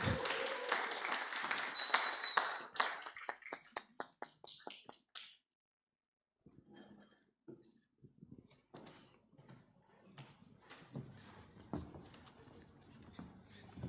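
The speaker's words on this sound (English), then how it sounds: "Can we get a bit of a round of applause for our farmers?" Conference audience at a Pan-African farming summit applauds the farmers on stage: dense clapping that thins into scattered claps and stops after about five seconds, followed by a pause, then light knocks, footsteps and handling noises.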